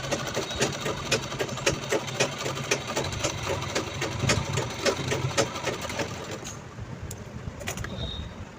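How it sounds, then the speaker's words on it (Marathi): A sewing machine runs a steady, rapid run of stitches on a stretchy readymade blouse at normal tension, close by and continuous, then slowing and stopping near the end. "एकदम नॉर्मल शिलाई लावायची आहे."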